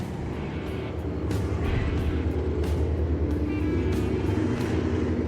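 Race cars circling the track at Claremont Motorsports Park, a steady engine drone from several cars held in formation, with a faint rise in roar as they pass, heard from a distance at moderate volume.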